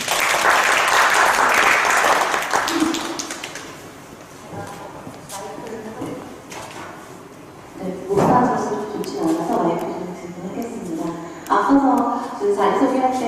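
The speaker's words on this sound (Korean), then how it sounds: "큰 박수로 맞아주세요" An audience at a young farmers' round-table event gives loud applause to welcome a speaker. The clapping is strong at first and fades after a few seconds. Talk over a microphone follows, with a brief burst of clapping partway through.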